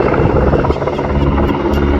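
Loud, close PZL W-3A helicopter at an airshow, its rotor beating in a dense, pulsing drone with engine whine on top, continuous throughout.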